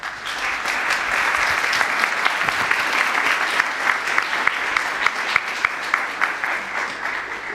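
A church audience at a music course gathering applauds loudly and continuously, many hands clapping in a dense, even roar with a few sharper claps standing out near the end.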